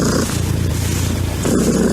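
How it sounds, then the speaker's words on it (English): A house cat purrs loud, close and deep, a continuous bassy rumbling drone with a steady pulsing rhythm and no pauses. "That's my cat, Leslie Nielsen."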